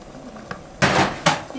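Stirring mahshi stuffing of onion and garlic with tomato juice in a pot, heard as two loud scraping, clattering bursts of a spoon against the pot after a quiet start, with no talking.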